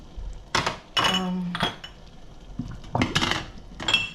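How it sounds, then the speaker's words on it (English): Several bright clinks of a glass jar knocking against a metal pot of boiling water, coming in short irregular clusters, close and fairly clear. "I'm going to like put my jar in boiling water."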